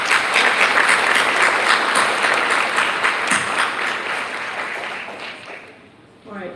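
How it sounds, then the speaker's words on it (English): An audience at a high school spring athletics banquet applauds the boat captains with sustained clapping that slowly fades out toward the end. "give them a round of applause for me, please"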